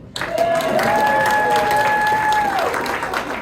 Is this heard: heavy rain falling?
no